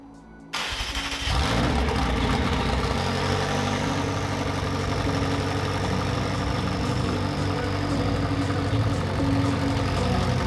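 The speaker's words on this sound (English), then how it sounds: "get a cold start on the McLaren 650S with just the downpipes" A McLaren 650S with downpipes cranks and fires at about half a second on a cold start, then settles into a loud, raspy, steady high idle with no talking.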